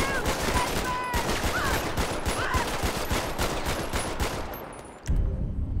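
Rapid automatic gunfire in a GTA 5 police roleplay mod, a loud dense fusillade of shots running steadily for several seconds before cutting off abruptly.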